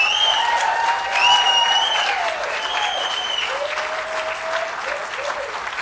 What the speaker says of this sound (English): Applause does not count toward 3 minutes.